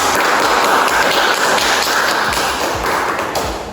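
Classroom applause from students during a chemistry lesson on electrolyte solutions, a dense steady patter of many hands clapping at once, loud and close, tapering off slightly toward the end.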